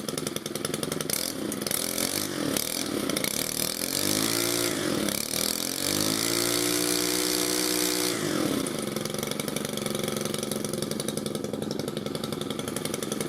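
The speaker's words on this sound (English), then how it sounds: "let's just rev it up a bit so you could hear how it's much different than" A Stihl FS91R four-stroke string trimmer revs up from idle to about half throttle, its engine note rising and holding steady, loud and close, with a slight dip near the end and no talking.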